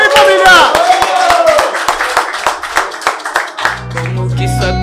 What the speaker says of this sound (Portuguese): palmas pro WM, hein, família?